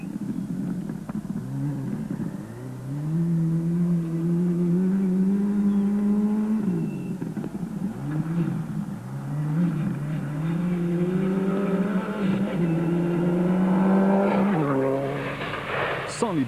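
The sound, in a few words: Subaru Impreza WRX rally car driving at speed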